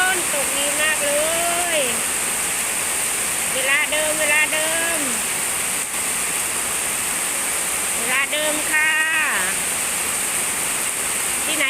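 Heavy rain pours down in a steady, dense hiss throughout, with a voice talking over the downpour at several points.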